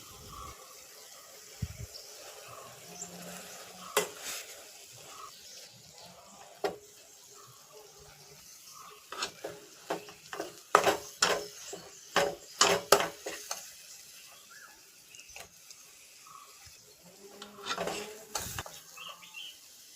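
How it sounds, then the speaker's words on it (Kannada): Drumstick flowers are stirred with roasted ground masala in a pan for masala rice: quiet, sporadic scrapes and clinks of a spoon, clustering into quick bursts, over a faint low sizzle. "ನುಗ್ಗೆ ಹೂವೆಲ್ಲ ಸ್ವಲ್ಪ ಬೆಂದ ಮೇಲೆ ಹುರಿದು ಪುಡಿ ಮಾಡಿದ್ದ ಮಸಾಲಾನ ಇದಕ್ಕೆ ಸೇರಿಸ್ಕೊಳ್ತಾ ಇದ್ದೇನೆ"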